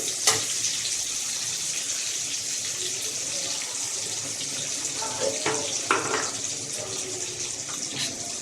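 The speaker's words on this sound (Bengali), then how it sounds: "পেঁয়াজটা ভাজা হচ্ছে" Onions fry in oil in a pan with a steady, close sizzling hiss and occasional crackles and pops, while faint voices murmur in the background.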